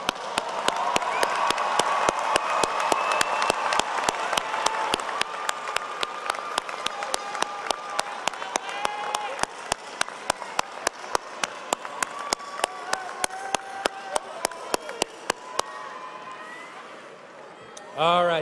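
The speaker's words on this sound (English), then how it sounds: "let's give them all one round of applause." Sustained audience applause at a spring college commencement for the College of Health and Human Development, a dense crowd of clapping with sharp hand claps standing out, a few voices and cheers mixed in, fading near the end.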